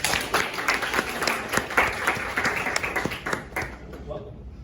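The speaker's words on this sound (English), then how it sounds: "Round of applause for that." An audience at a community house lunch gathering claps in a dense, steady round of applause that tapers off toward the end, with speech faintly underneath.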